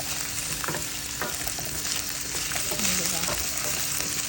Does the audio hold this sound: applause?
no